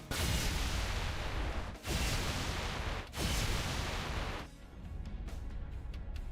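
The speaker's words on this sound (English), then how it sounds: "here's Mac gunfire. It's gonna be loud." Heavy, roaring MAC cannon fire from Halo 3 blasts in dense, loud bursts with brief gaps between them, then tapers into a quieter rumbling tail.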